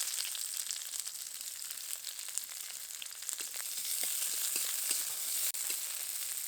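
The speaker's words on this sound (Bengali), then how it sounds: "তেলের মধ্যে দিয়ে দেবো পেঁয়াজ কুচি" Chopped onion frying in a small amount of oil in a wok, a steady close bright sizzle with scattered crackles and pops, occasional stirring scrapes, no talk.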